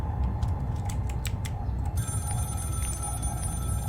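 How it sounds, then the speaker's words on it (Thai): A telephone rings in the horror film Scream, short repeated bell-like bursts over a low droning background, then a sustained high electronic tone as the ringing continues, no speech. "โทรศัพท์ดังครับ"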